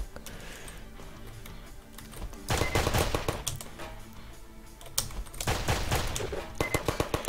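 Rapid bursts of gunfire in the video game Intrusion 2 crackle in repeated volleys, with quieter clicking between the louder stretches of shooting.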